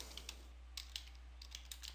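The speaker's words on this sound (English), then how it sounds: "So I'm typing these answers, but you would want to write them." Soft, quiet typing on a computer keyboard, a handful of light irregular key clicks over a faint steady hum.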